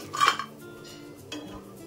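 Fried cashews and almonds are scooped from ghee into a bowl, giving a sharp metallic clink of utensil against pan and then a second lighter clink. Both are close and brief over faint background hum.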